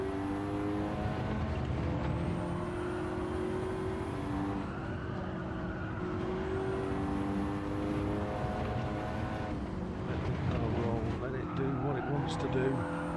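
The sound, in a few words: race car engine and braking in a racing video game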